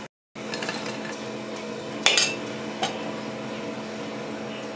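A metal utensil clinks and scrapes against a pan as fried medu vadas (lentil fritters) are lifted out, with a steady sizzle of hot oil underneath.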